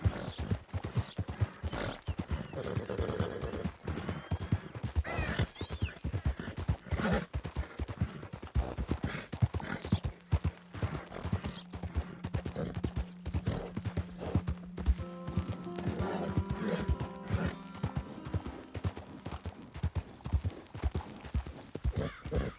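Horse hooves clip-clop steadily in the Red Dead Redemption 2 video game, a brisk rhythmic gallop of close, even beats that runs throughout, with a faint tonal hum joining midway.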